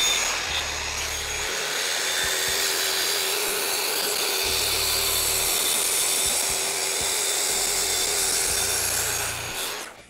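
A Shaper Origin handheld CNC router cuts a full 2-inch-deep second pass through a wood slab, producing a loud, steady whining roar that holds for the whole stretch and fades slightly at the end.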